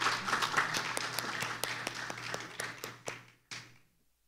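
Sparse applause at a legal competition final, a handful of distinct claps ringing out near the microphone, thinning and fading over a few seconds before a last clap and silence.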